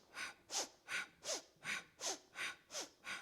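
Strong, rhythmic breathing during a Kundalini yoga exercise: eight forceful breaths, each close and loud, evenly paced at about two and a half per second with no talk.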